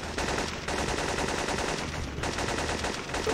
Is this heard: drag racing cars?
no